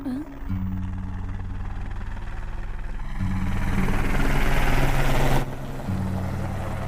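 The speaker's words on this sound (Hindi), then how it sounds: "भैया वो देखो हेलीकॉप्टर।" A helicopter throbs loudly and steadily overhead in an action film, its rotor drone swelling toward the middle before easing slightly.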